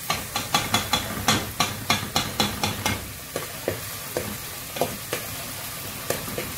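Onions fry and brown in a pan for chicken molokhia, a constant sizzle punctuated by a regular series of sharp spoon-on-pan stirring taps, quicker at first then more spaced out.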